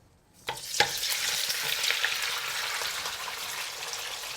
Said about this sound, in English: we are going to pan fry our egg tofu